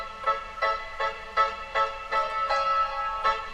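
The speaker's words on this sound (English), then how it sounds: "There's this piano that I added later that I was actually just at a piano, recorded it on my voice memo" Piano recorded on a phone voice memo and layered into a song, giving a thin, slightly lo-fi tone; repeated notes and chords struck in a steady rhythm at moderate volume with no voices.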